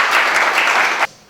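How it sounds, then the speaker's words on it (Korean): A lecture audience at a unification forum in Ansan bursts into dense, loud applause to welcome a professor, then it cuts off abruptly after about a second. "큰 박수로 맞아주시기 바랍니다."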